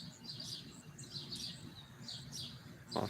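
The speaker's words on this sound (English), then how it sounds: "But you can hear the birds in the tree next to me," Several birds, likely young ones, chirp and call from a nearby tree at sunset in Olney, Illinois, with repeated bursts of high tweets over a steady low outdoor rumble and one louder close call at the end.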